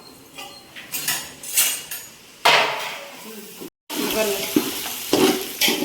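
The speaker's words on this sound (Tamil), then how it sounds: "தக்காளி வதங்குற வரைக்கும் நல்லா கிண்டி விடுவோம்" Tomatoes and green chillies being sautéed for chicken biryani, a spoon scraping and stirring in a pan in repeated strokes over a steady sizzle of frying, loud and close.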